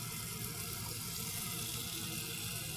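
Mushroom soaking water is poured into a cooking pot for Haitian black rice, making a steady, close gushing splash that continues without a break and has no talking over it.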